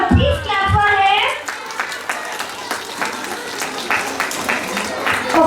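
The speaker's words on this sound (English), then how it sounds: "Please clap for him." Children at a school Christmas assembly break into scattered clapping for a pupil, a lively patter of small hands after a voice and some singing-like tones, fairly close and moderately loud with light chatter underneath.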